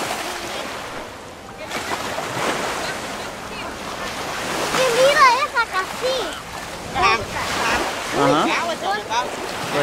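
Ocean surf rolls in at Miami Beach with a broad wash of breaking waves and wind buffeting the microphone, while voices chatter over it.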